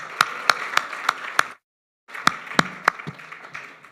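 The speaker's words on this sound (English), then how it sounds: "And now the round of applause for the Mayor, please." A small audience at a chamber of commerce event claps for the mayor. Scattered, individually distinct hand claps come at a slow rhythm, stop for a brief silence, then resume, sounding close and fairly sparse.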